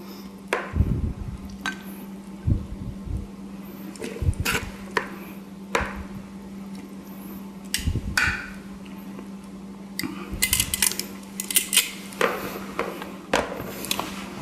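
A utensil mixes coleslaw into burger juices: light, irregular clinks and soft scrapes against the dish, close and fairly quiet, with no talking.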